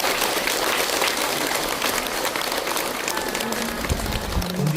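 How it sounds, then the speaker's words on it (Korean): Large temple crowd at a Buddhist dharma service gives a sustained round of applause for the monk's sermon, dense and steady clapping filling the hall from start to finish. "실제 법문해주신 해총 스님께 다시 한번 큰 박수 부탁드립니다."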